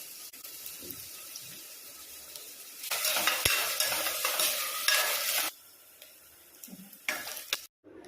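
Green chillies and ginger garlic paste fry in a pan for egg pulao, a soft sizzle that swells into a loud, hissing burst for a few seconds while being stirred, then drops back to quieter frying.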